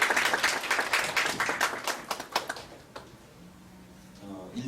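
An audience at an architecture student award briefing claps for two introduced speakers: a dense burst of applause for about three seconds that tapers off into a quiet room.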